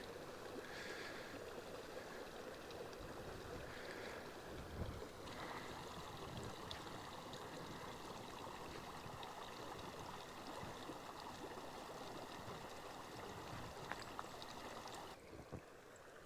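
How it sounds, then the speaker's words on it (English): Creek flowing beside a winter truck camp in Montana, a steady broadband rush of running water heard throughout at an even, moderate level with no talking. "looks like I got my own creek."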